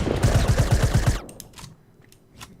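An SMG in the Fortnite video game fires a rapid burst of about eight loud shots in close succession, then cuts off, leaving faint clicks and scattered game sounds.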